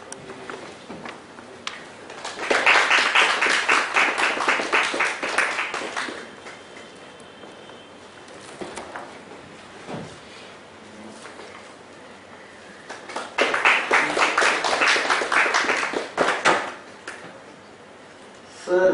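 Seminar audience breaks into two bursts of applause with a quiet pause between them, the clapping moderately close and brisk, with a few stray claps at the end.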